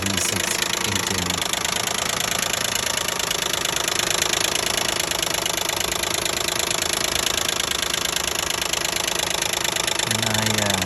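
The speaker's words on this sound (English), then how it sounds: "It seems like running strong engine, but it's just running noisy." A noisy 2012 Nissan Maxima 3.5 L V6 idles up close, a loud, steady clattering, knocking drone with rattling texture that holds unchanged throughout, with a brief voice near the start and end.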